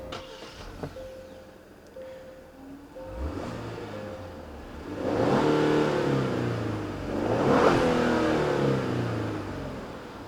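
Genesis car engine through its dual exhaust: idle, a blip, then two strong revs rising and falling, close and clear, with no talking.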